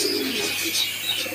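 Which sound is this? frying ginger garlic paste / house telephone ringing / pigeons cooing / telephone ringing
pigeons cooing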